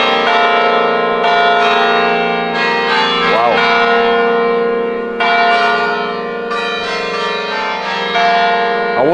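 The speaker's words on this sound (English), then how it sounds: "That's a lot of bells." Church bells at Bom Jesus do Monte in northern Portugal ring loudly and resonantly, overlapping strikes with long sustained tones layered together in a full peal.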